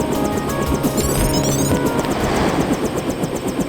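Loud helicopter in the video game Deus Ex, a dense continuous rotor and engine roar with rhythmic blade chop filling the whole stretch, alone without talk.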